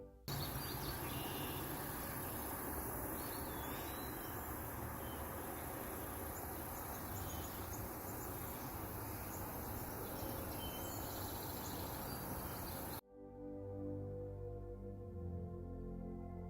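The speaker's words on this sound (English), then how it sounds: "From the bridge, we heard many sounds of different insects and birds." A dense, continuous chorus of insects buzzes and trills outdoors near a bridge, with scattered bird calls mixed in, before the sound cuts off abruptly to a quieter tone.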